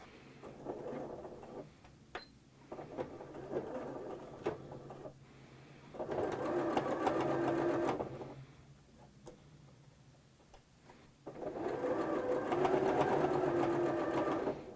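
A sewing machine stitching along the fold of a fabric napkin runs in bursts of steady rapid whirring, with pauses in between that hold faint ticks and handling noises.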